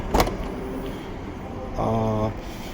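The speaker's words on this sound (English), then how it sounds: "so now it will go down and up all windows in one push without actually having to hold the button up" Power windows on a BMW M3 whir briefly as they drop and rise in one motion, a faint electric motor hum following a short click, with quiet cabin ambience.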